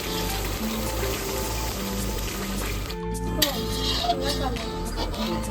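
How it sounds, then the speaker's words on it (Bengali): Water is poured into a pan of mustard and poppy seed paste fried until the oil separates, giving a steady close rush of liquid over a faint sizzle, then a few clinks, with a voice talking nearby. "রোহিণী জল দিয়ে নিচ্ছি"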